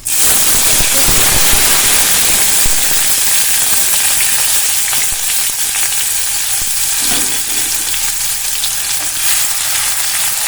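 Finely chopped green chillies and a medium onion sizzle loudly in a pan over a medium gas flame, with steady hissing frying and occasional scraping stirs throughout.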